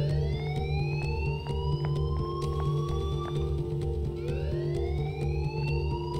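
An alarm wails in the video game Life is Strange, with rising siren sweeps that repeat over a steady, loud electronic drone and a pulsing low hum.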